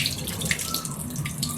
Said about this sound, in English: Add clean water and stir it, then pour away the cloudy blood water.